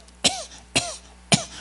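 Three dry coughs spaced about half a second apart, sharp and close, each a short harsh burst with no talking in between.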